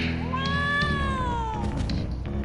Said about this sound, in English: That's a very unconvincing cat noise.